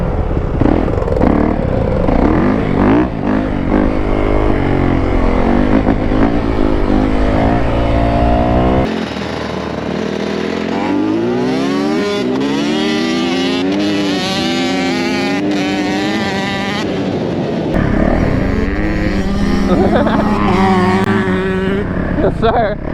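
A two-stroke dirt bike races four-stroke dirt bikes near a trailer park, with engines revving and rising and falling in pitch through repeated acceleration. People talk over the engine noise.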